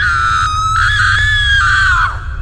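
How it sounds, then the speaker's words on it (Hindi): A long, loud, high-pitched cartoon scream from someone outside, sustained and wavering for about two seconds before cutting off, with no talk over it. "तभी बाहर से किसी की चीखने की आवाज आती है।"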